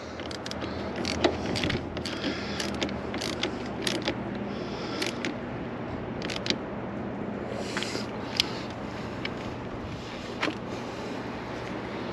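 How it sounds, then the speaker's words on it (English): A ratchet socket turns a battery terminal nut on a 2009 Dodge 2500 6.7, producing bursts of rapid close clicking between quieter handling noises. "Oh, I got a ratchet socket. This should speed up this process a little bit."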